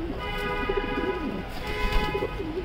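A racing pigeon from the Netherlands gives soft, low cooing calls close by. The repeated throaty coos rise and fall over a steady background hum, and no one speaks.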